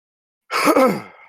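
A person imitates a cat's meow with a single short, close, drawn-out nasal vocal cry that rises and then trails off.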